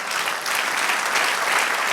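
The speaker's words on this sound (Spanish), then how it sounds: "Dale un aplauso al Señor." Sustained applause from a church congregation, dense and steady throughout, a full room clapping together with no voices on top.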